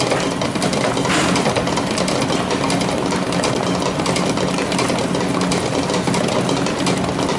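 Dough mixer running in a bakery while making sfogliatella, a loud, continuous mechanical whir and rumble that holds steady throughout, close and with no talk.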